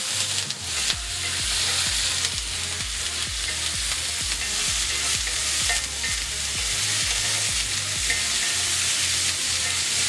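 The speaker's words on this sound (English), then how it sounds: "Stir this up." Sweet potato stir fry is stirred in a skillet over lowered heat. A steady sizzle runs throughout, with rhythmic low scrapes and thumps from the stirring repeating about twice a second, close and clear.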